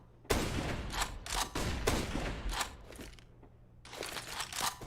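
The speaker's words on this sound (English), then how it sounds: "Firing pot shots" Rapid bursts of gunfire in a Counter-Strike: Global Offensive match on the Mirage map at IEM Katowice 2021, several sharp volleys close together with a brief lull before more shots.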